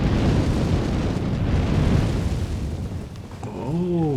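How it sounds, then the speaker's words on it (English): A fire-breathing enemy in Elden Ring lets out a loud, sustained roaring whoosh of flame that rumbles steadily, then ends in a few rising, ringing game tones. "Fire breather."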